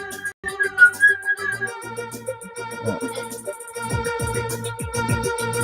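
A person whistles a wandering melody, close and clear, with sustained tones and quick trills over a few seconds.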